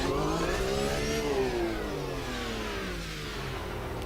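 A GT race car in the Automobilista 2 sim has its engine revved under throttle, a loud, steady mid-pitched drone whose pitch climbs then eases back down, with a whiny harmonic layer over the top and no voices.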